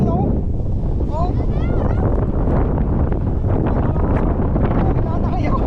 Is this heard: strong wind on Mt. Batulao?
yes